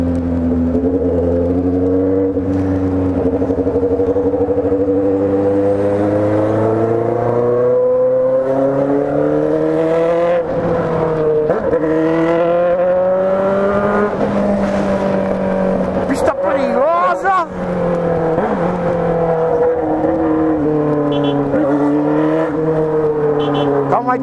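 A red metallic Honda Hornet motorcycle accelerates hard on a busy urban expressway, its engine a loud, continuous roar whose pitch climbs and eases in repeated surges right beside the rider.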